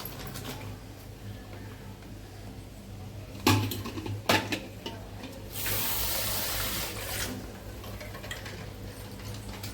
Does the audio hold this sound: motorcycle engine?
no